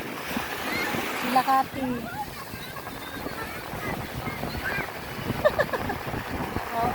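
Strong ocean waves roll and splash on a beach at night in Camarines Sur, a steady rushing surf with wind buffeting the microphone while people talk over it.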